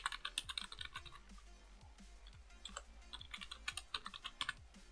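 A worksheet name typed on a computer keyboard: fast, close clicking keystrokes in quick bursts with brief pauses, fairly faint and with no talk.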